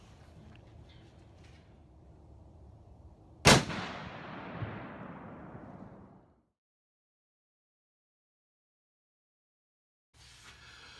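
A single rifle shot fired at a target outdoors on a cold day cracks sharply and rolls away in a long, fading echo, framed by quiet ambience and then near silence.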